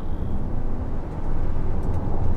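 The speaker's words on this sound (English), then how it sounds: "it sounds like the clutch is slipping, but it's not. It's just the gearbox doing its thing." A Toyota RAV4 PHEV's engine drones loudly under heavy throttle, a steady, sustained roar heard from inside the car that rises slightly toward the end, with no speech.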